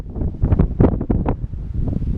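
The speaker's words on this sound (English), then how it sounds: "Big gust just came through and hit real hard" A strong gust of wind sweeps over open grass with a thermal breaking away, buffeting the microphone in loud, uneven surges that peak and ease off, no voices.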